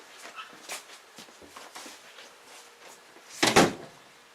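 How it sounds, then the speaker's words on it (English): A door aboard a sailboat under refit, with varnished bulkheads, swings shut with one loud, close thump near the end, after a few seconds of quiet rustling and light knocks. "All right, I'll close the door."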